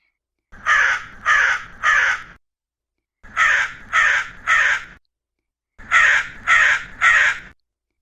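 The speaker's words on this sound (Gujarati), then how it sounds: "કાગડાની કાગારોળથી પોપટ ગભરાયો" A crow caws loudly and close, in three bursts of three harsh calls each, evenly spaced with silence between.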